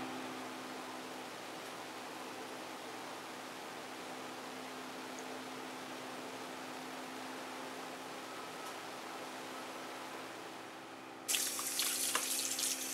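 Cold tap water runs steadily into a sink as shrimps are rinsed, a soft continuous splashing rush that swells into a louder, brighter spray near the end.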